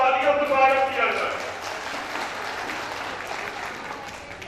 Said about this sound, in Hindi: हम चाहते हैं कि महिलाओं के लिए एक बार जोरदार तालियों से स्वागत किया जाए